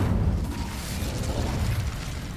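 An Incendio fire spell cast in Hogwarts Legacy gives a sustained low whooshing rumble of flame, loud and steady for the whole moment with no talk over it.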